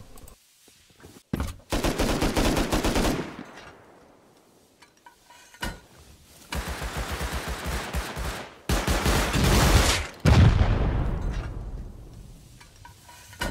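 Rapid automatic gunfire during a raid defense in an online survival video game, several loud bursts of fast shots separated by short quiet gaps, with the last bursts longer and denser.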